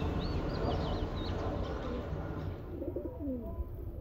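Soft, low pigeon coos rise near the end over a steady, noisy background hum, with faint chirps higher up.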